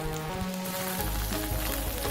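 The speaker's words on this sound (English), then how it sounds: "Wow, just listen to the sizzle." Steady crackling sizzle of Nyonya-style fish stuffed with chilli paste, wrapped in turmeric leaves and fresh from a hot oven, a dense, continuous hiss without pause.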